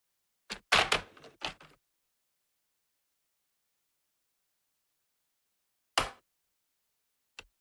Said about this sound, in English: we will take our nice cutter and we will cut this down